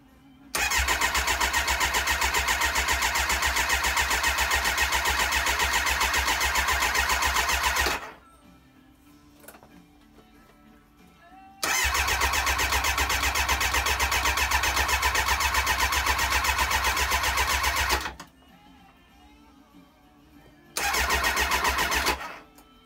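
A Kawasaki Ninja ZX9R motorcycle engine cranks and catches in three long bursts of loud, steady running separated by quiet gaps, as if repeatedly starting and dying on a first start-up attempt with choke.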